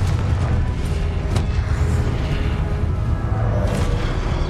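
Confringo fire spell explosions in the video game Hogwarts Legacy, a dense run of booming low blasts with crackling bursts layered over a steady game rumble, loud and close.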